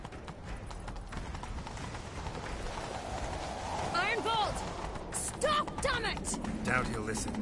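Horse hooves gallop in The Witcher 3 video game, a fast, loud drumming of clip-clops close by, with swooshing game effects and voices talking over parts of the run.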